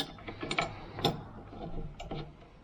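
Metal screws are fitted into a mounting plate on a bamboo pole, giving a few close, sharp ticks and small ratcheting clicks with short pauses between them.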